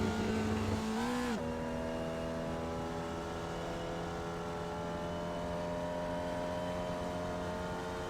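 A Formula Vee race car in the iRacing sim game runs at full throttle on the Okayama circuit, a steady buzzing engine drone after a brief pitch dip early on, continuous with no voices.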